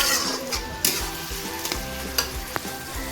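Shredded cabbage frying in oil in a pan, a continuous close sizzle broken by occasional scrapes and clinks of a spatula stirring.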